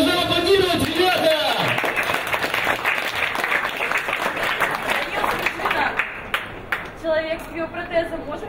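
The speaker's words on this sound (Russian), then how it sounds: "Продолжаем аплодировать, ребята!" Crowd applause at a science slam event, dense clapping that starts under a loud speaking voice and continues steadily, thinning into scattered claps near the end.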